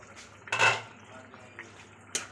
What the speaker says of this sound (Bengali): চলো ঢাকাটা খুলে